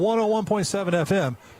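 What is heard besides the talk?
None of the usual background noises is heard.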